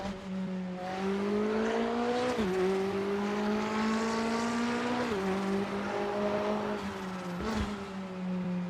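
A McLaren 570 sports car engine in a racing video game, heard from outside, drones steadily at a high pitch, its note dipping briefly as gears shift a few times, loud and continuous with no voices.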